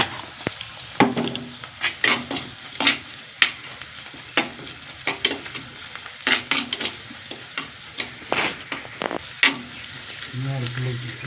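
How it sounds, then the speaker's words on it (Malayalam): Curry leaves dropped into hot oil in a Kerala-style fish-free curry, a steady close sizzle punctuated by repeated sharp stirring scrapes and clatters of a spoon against the pan, with no talking. "കറിവേപ്പില ഒന്ന് മൂക്കട്ടെ കേട്ടോ"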